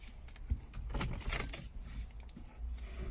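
Car keys jangle briefly in a 2011 Vauxhall Combo after its head unit is switched off, a few close, light metallic clinks over a faint background hum.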